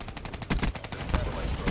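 Rapid bursts of automatic gunfire crackle in a Call of Duty: Black Ops 3 online match, loud and dense, with repeated shots overlapping in quick succession.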